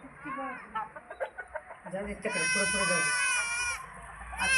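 Chickens cluck in short bursts at the start, then a high, drawn-out bleating cry carries over them, close by and moderately loud.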